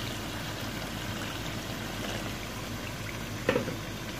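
About a glass of saved spinach-boiling water is poured into a cooking pot of palak gosht (spinach and mutton), giving a steady, close trickling stream, with a brief sharp clink near the end.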